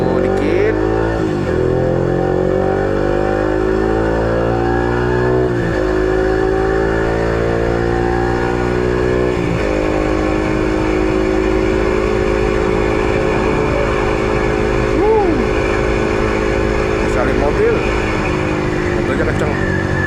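Car engine fitted with a Cheetah Power O2 manipulator revving up repeatedly, rising whines climbing in pitch and falling back several times over a loud, continuous engine roar close by.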